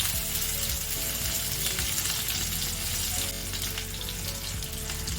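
Curry leaves and chopped onion frying in hot oil in a pan, a steady loud sizzle with crackles running throughout, no talk.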